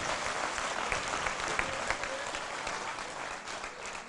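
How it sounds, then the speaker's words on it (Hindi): Dense, steady audience applause welcoming a poet at an all-India mushaira in Patiala, Punjab, filling the hall at an even level throughout without pause. "भरपूर तालियों से पंजाबी अंदाज से इनका इस्तकबाल कीजिए"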